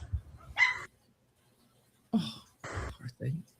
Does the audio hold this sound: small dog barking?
yes